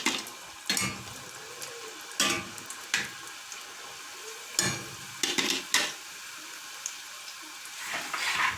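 Chebakia dough, the Moroccan honey-and-sesame cookie, frying in hot oil: a steady sizzle with intermittent sharp clattering bursts of stirring and handling, close and alone without talk.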